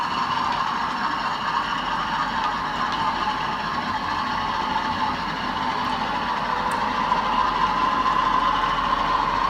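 Model train in Intercity livery with a brake coach at the rear, running on its track as a steady, continuous rumble and whirr with no pauses throughout.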